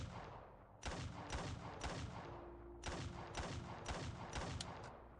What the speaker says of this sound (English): She's shooting the air?